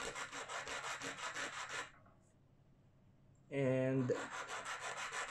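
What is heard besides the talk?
filing a fishing hook point to sharpen it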